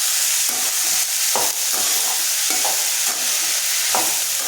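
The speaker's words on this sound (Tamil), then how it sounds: "இந்த கொஞ்சம் நேரம் அப்படியே எண்ணெயிலே வதக்கிக்குவோம்," Chopped cowpea pods and onion sauté in oil over a low flame, a steady close sizzle broken by repeated scraping stirs of a spoon against the pan.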